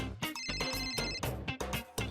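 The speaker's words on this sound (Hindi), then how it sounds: "हाँ फोन आ गया" A telephone rings in short repeated bursts with a musical, tonal ringtone, heard close and fairly quiet with no talking.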